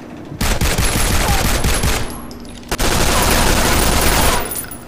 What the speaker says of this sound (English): How do your MG turrets see me when I'm stealth?